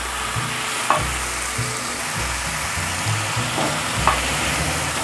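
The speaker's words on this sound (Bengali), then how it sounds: "মশলাটা খুব ভালো করে কষিয়ে নিতে হবে" Ginger, garlic and green chilli masala frying in a pan for a rohu fish and cauliflower curry, a steady close sizzle with a few stirring scrapes and spoon knocks, no talking.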